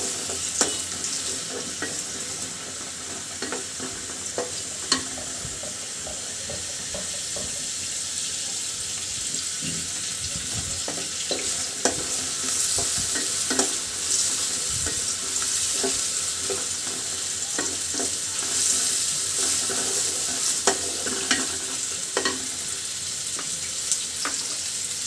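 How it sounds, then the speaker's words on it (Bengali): Cinnamon sticks and bay leaves frying in hot oil, a steady close sizzle and crackle with occasional stirring scrapes and ticks, continuing unbroken throughout. "দিয়ে দিচ্ছি এখানে তেল, সাথে দিয়ে দিচ্ছি কয়েকটা দারচিনি এবং তেজপাতা।"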